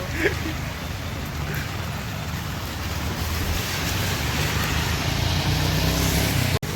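Vehicle driving through heavy rain near Lonavala, a steady wash of rain and tyre spray with wind rumble filling the whole stretch, close and continuous, ending in a sharp knock.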